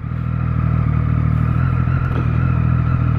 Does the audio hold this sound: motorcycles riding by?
yes